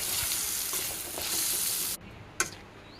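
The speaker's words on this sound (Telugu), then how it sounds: "తర్వాత ఉల్లిపాయలు, పచ్చిమిర్చి, తర్వాత పన్నీర్ ముక్కలు యాడ్ చేసుకొని కలుపుకోవాలి" Onions, green chillies and paneer pieces stirred and sizzling in a frying pan, a loud, close hiss with scraping strokes that drops off abruptly near the end before one last stir, no talking.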